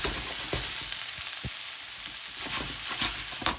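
Zucchini sizzling gently in a small saucepan with salt, pepper and piment d'Espelette, a continuous soft frying crackle with scattered pops, close and steady throughout.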